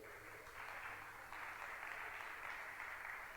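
Loud, sustained applause from a standing audience fills the whole stretch, a dense wash of clapping with a slight swell midway and no voices over it.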